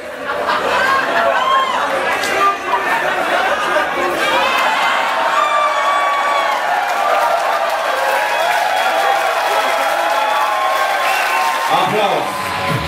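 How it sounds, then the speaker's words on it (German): A festival crowd applauds and cheers, with clapping and shouts rising over constant loud chatter and scattered high voices. "Applaus."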